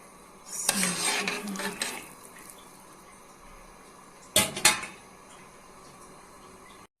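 Rice stirred in an uncovered pot, two bursts of scraping and clattering spoon strokes against the metal separated by a quieter stretch of faint simmer.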